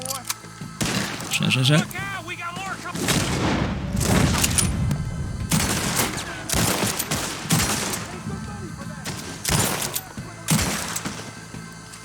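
Rapid bursts of close, loud gunfire ring out in Red Dead Redemption 2 during a distillery infiltration, with shots cracking in quick succession throughout. Someone shouts urgently between and over the volleys.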